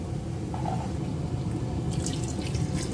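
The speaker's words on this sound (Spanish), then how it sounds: "Cubrimos las lentejas de agua." Water is poured over lentils in a pot for a chorizo and vegetable pressure-cooker stew, a steady trickling, splashing flow with a brief higher drip-like sound near the end.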